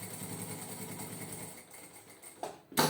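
A sewing machine running a topstitch seam with a longer 3.5 stitch length, a steady high whir that fades after about a second and a half, followed by a few sharp clicks and handling noises.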